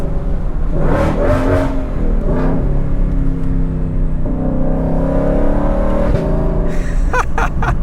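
A Ford Shelby GT500 engine revs from inside the cabin, with several sharp throttle blips and rising, falling engine tones over a constant loud road rumble, ending in quick bursts of revs.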